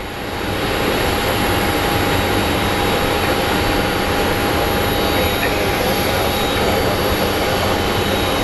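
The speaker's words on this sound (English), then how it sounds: "our next plane that is arriving is a United Airlines 737 coming in from Denver" A United Airlines Boeing 737 jet arriving from Denver at Phoenix Sky Harbor airport gives a steady, loud broadband engine roar that builds in the first second and then holds with a thin high whine.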